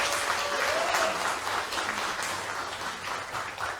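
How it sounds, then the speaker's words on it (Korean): Sustained audience applause fills a political party leadership rally in Gyeongbuk, Korea, following a candidate's campaign speech; dense steady clapping from a large crowd, fairly distant and even throughout. "다시 한번 뜨거운 박수 부탁드립니다"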